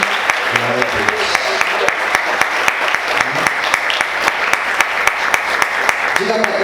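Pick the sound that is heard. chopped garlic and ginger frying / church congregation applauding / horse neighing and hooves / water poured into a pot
church congregation applauding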